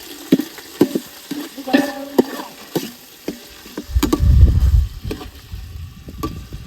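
Tempering sizzling in a pan while cooking poha at a campsite near Chandgadh fort, with sharp spoon clinks and stirring taps and a short burst of frying hiss midway, close and fairly loud.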